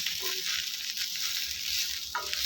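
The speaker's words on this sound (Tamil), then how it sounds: "நல்லா அந்த எண்ணெயில் வதக்கி விட்டுலாம்" Drumstick leaves being sautéed in oil, a continuous close sizzle with faint stirring scrapes at the start and end.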